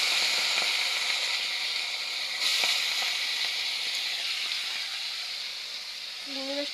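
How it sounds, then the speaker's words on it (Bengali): Prawns hitting hot oil already crackling with fried dried chillies, a steady loud sizzle and hiss that carries on throughout, with a couple of faint clinks. "শুকনো লঙ্কাটা ভাজা হয়ে গেছে এখন দিয়ে দেবো আমি চিংড়ি মাছ"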